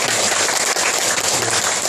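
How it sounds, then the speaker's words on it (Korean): A church congregation claps to welcome visiting guests, a dense, steady burst of applause from many hands filling the room for a couple of seconds. "우리 박수로 환영해 주시면 감사합니다"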